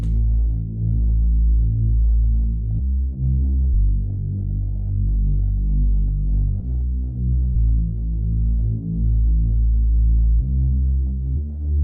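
A deep, sustained synth bass pulses and throbs in a steady rhythm, sidechained to the kick drum so its swells duck and return with each beat; no voices.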